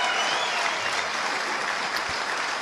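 Dense, steady applause with cheering from a large crowd at a New Hampshire political rally speech, close and loud, a continuous wash of clapping and whoops across the whole stretch with no speech above it.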